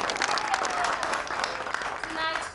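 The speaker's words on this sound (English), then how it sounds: "Let's clap for him." Applause from an audience packed into a bar during a community fundraising show, steady dense clapping filling the room for the whole stretch, with voices and cheers mixed in.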